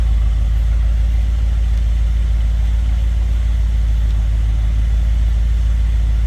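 A 1958 Edsel Pacer convertible's 361 V8 running, heard from behind the car: a steady low idle rumble with a constant deep throb and no change in pace.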